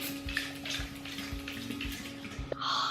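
A can of facial water mist sprays onto skin in a steady hissing stream lasting a few seconds, with small clatters of handling before the spray gets louder near the end.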